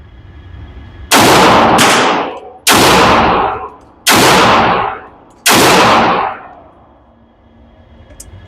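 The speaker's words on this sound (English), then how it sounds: "we're going to finish this magazine" An S&W M&P 2.0 pistol in .22 Magnum fires four loud, sharp shots with short, uneven gaps between them, each crack ringing out and fading as the magazine runs empty at a shooting range.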